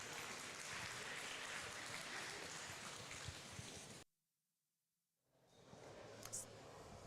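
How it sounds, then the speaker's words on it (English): Crowd applause and cheering at a middleweight strongman competition final, a loud broad wash of clapping for about four seconds that cuts off abruptly, followed by quieter ambient noise. "Huge round of applause for Lee, everybody."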